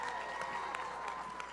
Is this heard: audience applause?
yes